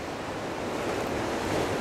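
Calm ocean surf at Juno Beach, Florida on a breezy morning, a steady wash of waves with light wind noise on the microphone, continuous and even with no voices.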